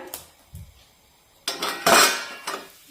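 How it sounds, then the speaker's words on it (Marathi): A lid is lifted off an appe pan of millet-flour appe cooking over medium heat, giving several clear metallic clinks and clatters, with a louder burst of rattling near the end and no voices. "यावरचं आपण झाकण काढूया"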